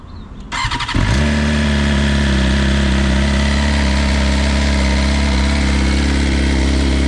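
A 2022 BMW S 1000 RR sportbike with stock exhaust cranks briefly, then catches and settles into a loud, steady, close idle that holds to the end.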